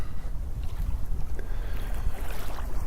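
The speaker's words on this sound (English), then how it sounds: "I can choose to appreciate the sound of the waves." Ocean waves wash onto a beach in a continuous, rushing surf with a deep rumble and hiss, close and fairly loud, with no voices.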